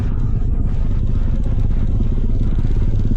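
Motorcycles and cars pass along a highway in a dense, steady rumble of engines. The close traffic noise runs without a break, with a faint clatter on top.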